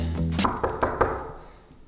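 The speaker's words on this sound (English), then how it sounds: "I've knocked." Four quick knocks, near and fairly loud, fall in a short uneven run, followed by a quiet moment.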